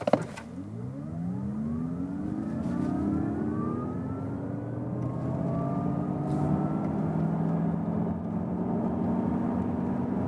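A Mazda MX-30 electric car accelerates to 90 km/h on a slight uphill, its motor whine climbing in several rising tones that sweep steadily upward over a low road rumble, with no talking.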